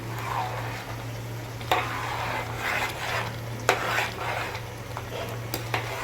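Chicken curry in a pot is stirred with a spoon, giving a soft, scraping churn over a low sizzle, with several distinct metallic taps against the pot.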